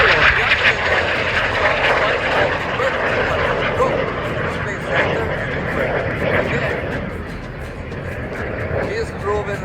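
Solo NV59 aerobatic plane at the Rochester, NY airshow passes by with a steady, loud propeller and engine roar, blended with crowd noise and a commentator's voice throughout.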